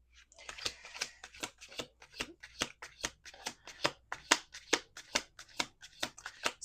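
Cards are shuffled in quick, crisp riffles, a steady series of sharp flicking bursts close by with no talking.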